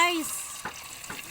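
Egg dropped into hot cooking oil in a home kitchen, a brief sizzling crackle with a couple of soft stirring scrapes, close and fairly quiet, after a short vocal sound at the start.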